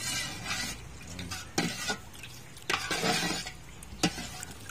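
A mixture is stirred in a pan in several short scraping strokes with brief pauses, close and fairly quiet, with faint sizzling and light clinks between.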